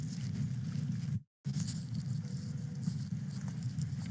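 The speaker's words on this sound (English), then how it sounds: "It's raining in Southern California, y'all." Rain pattering steadily during a Southern California downpour, a dense, even hiss with a low rumble that drops out briefly for a fraction of a second before resuming.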